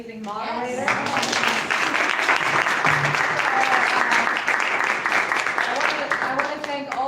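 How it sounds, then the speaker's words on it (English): An audience applauds a panel moderator at a public talk on Iran, a dense, steady round of clapping that swells and holds for several seconds, with voices and cheers mixed in underneath. "And can we get a round of applause for our amazing moderator?"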